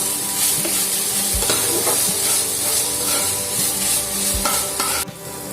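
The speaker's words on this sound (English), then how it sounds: "I'll fry the fish till a brown color comes on top." Fish pieces for a Bengali fish chop fry in hot oil, giving a steady, close sizzle with stirring clatter and occasional utensil knocks throughout.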